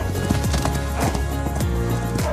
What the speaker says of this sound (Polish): Koń, który wychodzi po zimowej przerwie na wybieg, no to na pewno odczuwa radość.